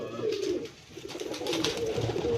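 A pigeon breeder's flock at a village farmstead coos in low, rolling calls that come in overlapping bursts, near and clear, with no voices.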